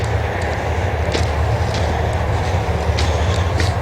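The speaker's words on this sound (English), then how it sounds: "You'll probably see that train pass behind me." A train passes on the Indiana Eastern Railroad main line in winter, a steady low rumble with faint rhythmic clicks of wheels over rail joints, heard at a moderate distance without talk.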